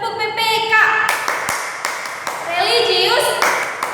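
A class of children does the rhythmic Tepuk PPK clapping chant, with sharp sets of claps mixed with young voices chanting and singing along up close.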